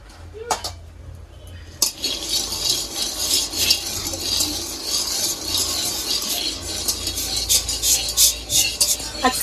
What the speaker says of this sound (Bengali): এখন ভেজে নিব বাদাম, দুবার করে ভেজে নেব।